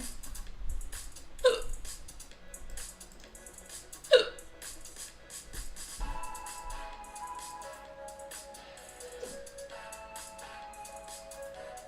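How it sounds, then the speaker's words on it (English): Two short, sharp hiccups about two and a half seconds apart stand out over quiet background music, with a faint third one later. "Oh no, I have the hiccups."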